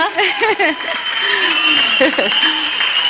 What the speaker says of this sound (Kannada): ಚಪ್ಪಾಳೆ ಇನ್ನು ಮುಗಿಲ್ಲ.